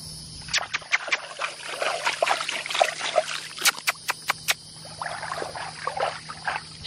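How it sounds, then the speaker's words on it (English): Water gets splashed around by hand in a horse's water trough, producing a run of irregular sloshes and sharp splashy bursts close by, with no talking over them. "I'm just gonna splash it around a little bit so she kind of gets an idea of like where it is"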